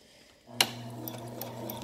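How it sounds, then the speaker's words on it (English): A domestic sewing machine starts stitching after a sharp click, then runs with a quiet, steady mechanical hum and soft rhythmic ticks, close and alone. "Then you're just going to start to sew."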